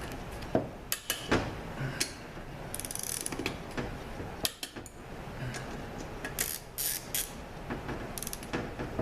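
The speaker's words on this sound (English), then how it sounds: "we're going to torque these pump bolts down, figure 18 to 20 foot-pounds" Torque wrench tightening the front pump bolts on a 722.9 automatic transmission in a star pattern, producing repeated sharp ratchet clicks and metallic ticks in short bursts, close by with no talking.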